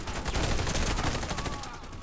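Dense rapid gunfire from the Warface online shooter game, a continuous loud fusillade of overlapping shots throughout.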